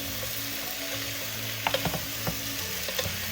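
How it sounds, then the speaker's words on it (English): Pork neck bones sauté and brown in a pan for Filipino sinigang, giving a steady close sizzle with a few light clicks and scrapes of stirring. "Again, saute it."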